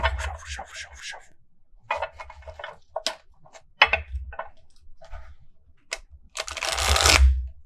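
Tarot cards being shuffled by hand, a run of soft papery ticks and riffles in short bursts, ending in a denser, louder flurry of card noise close to the listener.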